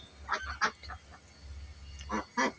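Loud honking calls from ducks, a few sharp bursts near the start and a couple more near the end, with a low rumble underneath.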